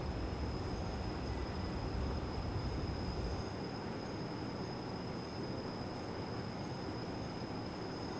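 A Rhaetian Railway train on the Albula Line in Train Simulator rumbles loudly as it runs into a tunnel, a broad steady roar with a constant high whine, the low rumble dropping away slightly partway through.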